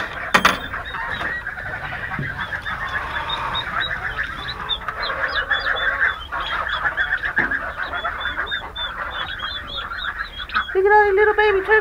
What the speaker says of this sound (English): So I want to show you my turkeys and my baby ducks.